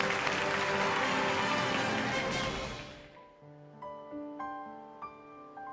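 An audience applauds to welcome an academician onto the stage of a televised lecture show. The quiet clapping lasts about three seconds, then fades into soft musical tones.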